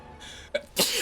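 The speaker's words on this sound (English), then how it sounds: "I'm going to sneeze again." A single human sneeze, a short quiet intake of breath followed by a sharp, loud burst of air near the mic, with faint game sounds underneath.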